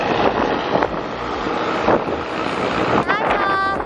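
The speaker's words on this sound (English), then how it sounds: "It's a little windy, but it's a beautiful day." Blustery wind buffets the microphone at an airport in Tahiti on a hot day, as a rough, gusting roar with a person speaking over it.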